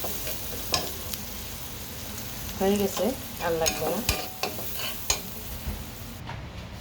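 Onion frying in butter while being stirred, a steady close sizzle with scraping strokes of a spatula and a brief spoken comment over it.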